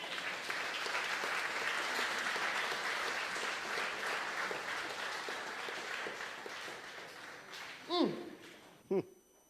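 Church congregation applauding to give the Lord a hand during a French and English service in Guadeloupe, sustained clapping for several seconds that fades out, ending with a couple of loud sharp sounds.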